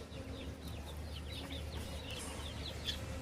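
Chickens clucking in a backyard flock with a coop as rain approaches, with short, repeated calls scattered over a steady low background hum and fairly close.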